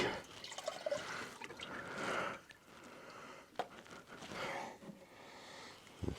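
Coolant trickles and drips as it drains from a vehicle during workshop repairs, a close, uneven liquid dribble with occasional louder splashes.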